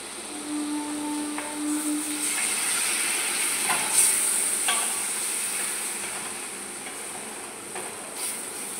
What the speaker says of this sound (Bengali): এখানে দিলাম টক দই, দিয়ে এটাকে ভালো করে নাড়াচাড়া করতে হবে।